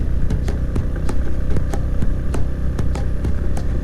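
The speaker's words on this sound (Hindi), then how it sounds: "बाइक का साउंड बता रहा है कि आगे चढ़ाई ही है सारी।" A motorbike engine labours steadily on a climbing mountain road toward Naltar, its loud, continuous drone close to the rider with periodic ticking pulses and no talk.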